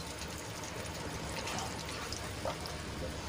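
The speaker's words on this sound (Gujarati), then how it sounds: "અહીંયા હું એક ગ્લાસ જેટલું પાણી એડ કરું છું" About a glass of water poured into a Gujarati shaak gravy in a pan, heard as a soft, continuous splashing trickle at close range that stays fairly faint throughout, with no speech.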